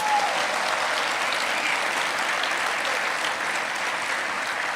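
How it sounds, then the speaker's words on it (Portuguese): A church congregation applauds at an evening service, a dense, steady wash of many hands clapping together that holds at an even, fairly loud level throughout. "Você pode dar um aplauso ao Senhor essa noite?"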